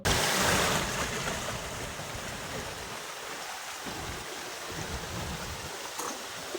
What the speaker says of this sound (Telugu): ఏదో చిన్న కొండ మీద నుంచి నీళ్ళైతే పడుతున్నాయి